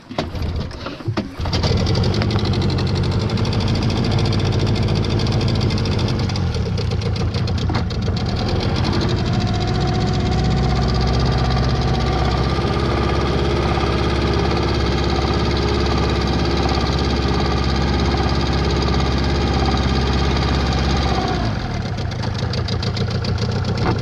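An outboard motorboat engine on a spring fishing trip cranks and catches, then runs loud and steady at a droning idle for over twenty seconds before cutting off, with no talk over it.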